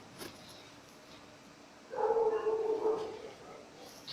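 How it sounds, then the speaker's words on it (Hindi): Dogs bark and yip in the distance for about a second, a short burst of barking against faint background noise. "ये देखिए कुत्ते भी भौंकने शुरू हो गए हैं अब"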